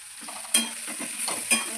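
Boiled potatoes stirred into sabudana khichdi in a pan, with soft sizzling and two distinct metallic clinks of a spoon against the pan among gentle scraping.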